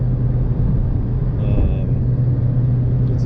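A 1992 Toyota Paseo's engine drones steadily at about 4,000 RPM in fifth gear on the road, a loud, constant low hum with road rumble and no change in pace.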